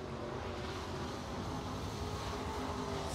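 Crate race car at speed on a qualifying lap at Crossville Speedway, a steady, continuous engine roar held at a constant level throughout, with no pauses.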